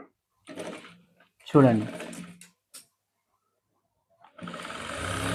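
An electric sewing machine runs in short bursts while stitching the shoulder seam that joins the back and front of a coat with a shawl collar. Someone speaks between the bursts, and the machine hums steadily near the end.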